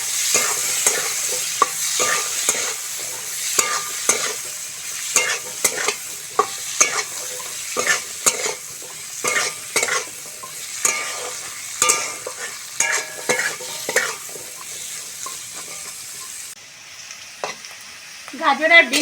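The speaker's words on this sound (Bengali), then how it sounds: "গাজর আর বিনসটা ভালো করে ভেজে নিয়েছি" Carrots and green beans sizzle steadily in a hot pan while a spatula stirs and scrapes them in frequent irregular strokes, close and fairly loud. It is meant for prawn fried rice, and the sizzle thins out near the end.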